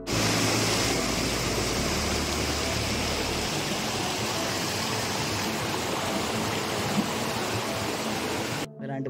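Waterfalls and streams in the dense Nallamala forest rush in a loud, continuous broadband roar that holds steady for the whole stretch before cutting off abruptly at the end.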